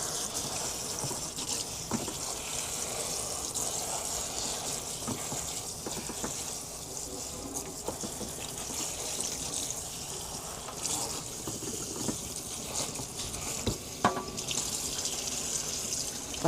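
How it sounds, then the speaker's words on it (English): Tap water runs steadily over arugula leaves being rinsed in a sink, a continuous close gush with small splashy variations and no talk. "I'll give it a good little rinse"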